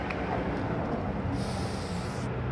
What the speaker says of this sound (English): Then you spray down your seals.